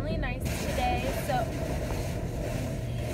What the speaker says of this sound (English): We are in the car wash.